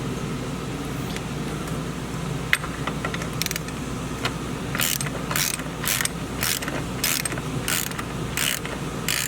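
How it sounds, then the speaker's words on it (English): Wrench ratcheting on the belt tensioner of a Jeep Cherokee engine, a 15mm tool clicking in short repeated bursts over a steady low hum, close and moderately loud, with no talking. "loosening up the belt tensioner with a 15mm wrench or socket"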